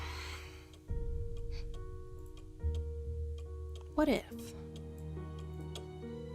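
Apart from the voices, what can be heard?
ticking clock sound in Nancy Drew video game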